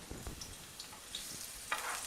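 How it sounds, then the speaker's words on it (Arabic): Onion pieces fry in hot oil in a pan, giving a soft, steady sizzle with faint crackles and light pops, quiet and close, with no talking. "على النار بين ما يسخن. أول شي نحط قطعة البصل، حبة واحدة"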